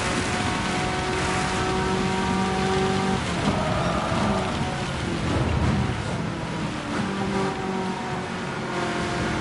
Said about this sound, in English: It was raining quite a bit.